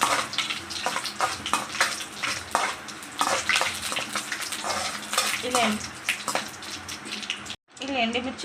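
Dried red chillies fry in hot oil for a tempering in a pan as a Ganesh prasadam dish is cooked, giving a steady, dense sizzle with stirring scrapes throughout, loud and close.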